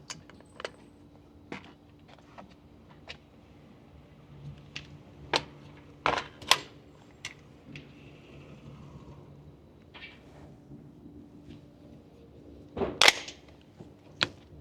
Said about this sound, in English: the hometown munition ammo, because it is supers, it's a little bit more spicy. It has a crack to it.